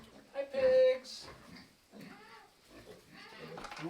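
Close, loud grunts and oinks from pigs in a farm pen, a strong squealing grunt early, then softer snuffling, with a person's voice talking among them.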